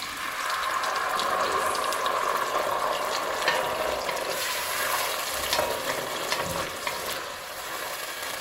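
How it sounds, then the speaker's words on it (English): Garlic and tinned tomato sizzle in a hot pan for a marinara sauce, a continuous crackling fry with scattered sharper pops and spits and no speech. "if your garlic was not sizzling as frantically, then you could let it soften for a little bit longer"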